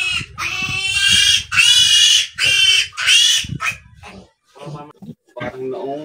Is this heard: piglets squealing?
yes